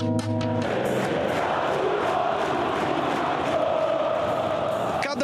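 Atlético Mineiro football supporters roaring in their home stadium: a loud, continuous crowd din of shouting and cheering voices that fills the whole stretch, with a brief sharper burst at the start.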